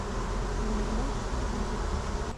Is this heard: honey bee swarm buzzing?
yes